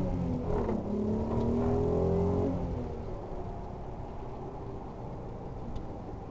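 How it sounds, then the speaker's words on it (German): Volkswagen Golf R32 with a turbo accelerating hard, a rising engine whir and turbo whine that builds loudly for a few seconds and then settles into a steady, duller cruising drone from inside the car. "Qui si sente la turbina"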